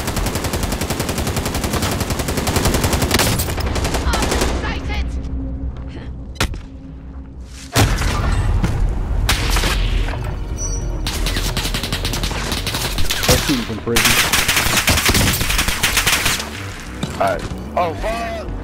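Rapid gunfire bursts from the video game Call of Duty: Modern Warfare, with loud sustained volleys and sharp single shots over a dense battle mix, and a player talks over the action.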